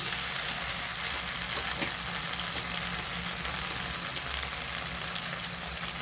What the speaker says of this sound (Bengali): গোটা গরম মশলা তো আগেই দিয়েছি, ঘি দিয়ে দিলাম।